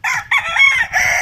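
A Gilmore Hatch gamecock crows once, loud and close, its call rising and falling over about a second with no other sounds around it.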